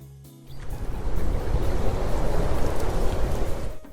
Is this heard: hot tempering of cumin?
no